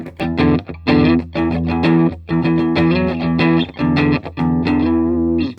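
Electric guitar played through an Ibanez TS9 Tube Screamer overdrive pedal, loud and close: a run of strummed and picked chords with a mild gritty edge over a mostly clean tone, in short phrases separated by brief gaps.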